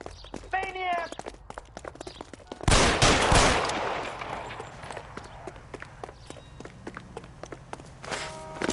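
Gunfire in a PS4 video game, a loud burst of rapid shots in the middle set among scattered footsteps and clicks, with voices speaking before and after.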